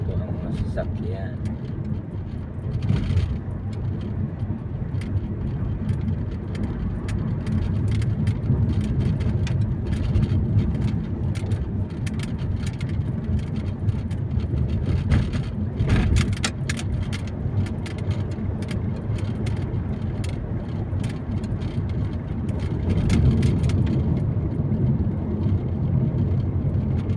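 Morning road traffic near Ateneo, a continuous rumble of cars with vehicles swelling and fading as they pass close by. A voice talks over it in places.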